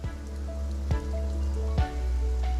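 Steady rain falls on a garden, a continuous close patter with a couple of brief louder splashes or knocks over the top, no voices.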